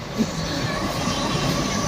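A small amusement park ride-on toy train rumbles along steadily, a continuous mechanical clatter and hum with crowd noise in the background.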